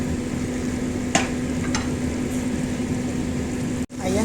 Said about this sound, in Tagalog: Hintayin po natin na maluto po ang ating vegetables